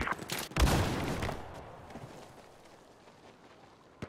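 Battlefield 4 gunfire on a Conquest carrier assault map, a loud volley of shots at the start that dies away into a quieter background rumble, with one more sharp crack at the very end.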